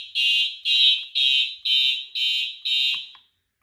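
A Siemens smoke detector sounds its fire alarm during a test, giving six loud, piercing electronic beeps in an even rhythm that then stop, with faint clicks near the end.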